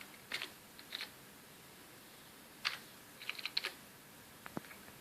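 Keys on a computer keyboard are tapped in short, scattered bursts of clicks separated by pauses, close and quiet in an otherwise still room.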